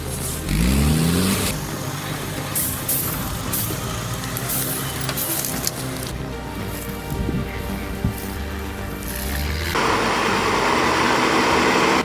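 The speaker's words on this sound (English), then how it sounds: "They don't make trucks like this anymore, just raw steel and torque clawing up that muddy hill like it's nothing." A logging truck's engine revs and strains as it climbs a muddy hill, a loud, continuous growl with shifting pitch, mixed with patter resembling rain and sporadic clatter.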